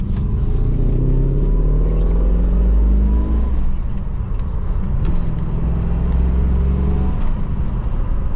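A mid-1980s Holden VK SS Group A 'Blue Meanie' pulls hard on a highway, its engine rumbling loud and close from inside the cabin, rising in pitch through the gears with a brief dip between shifts.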